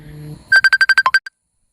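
A phone rings for an outgoing video call to a mother: a quick run of about eight sharp electronic beeps in a rhythmic burst, loud and close, then silence, after a faint low hum.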